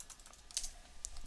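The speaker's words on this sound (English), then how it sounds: "that was from Brian, me typing to him." Quick, light keystrokes on a computer keyboard, a handful of soft clicks scattered unevenly over a second and a half, fairly close and quiet with no voices.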